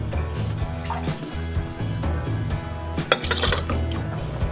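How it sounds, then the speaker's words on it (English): Coconut milk pours into a cooking pot for a brown stew tofu, giving a steady liquid gush over a low kitchen hum, with a louder splashy surge near the end. "we're going to add some coconut milk and allow that to cook for a little while before adding the rice"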